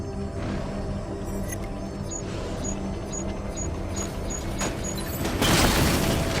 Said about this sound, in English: The explosion disabled the main cannon